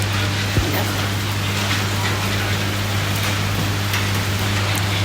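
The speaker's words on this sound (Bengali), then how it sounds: "বৃষ্টিটা এখনো থামেনি, বৃষ্টি পড়েই যাচ্ছে।" Steady rain falling outdoors during a wet monsoon day in Bengal, a continuous broadband hiss at constant level with a low steady hum underneath and no talking.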